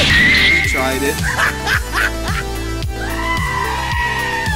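Duck-like quacking sound effects in the video game Among Us, a series of loud nasal honks in a rhythmic run over a steady low backing beat.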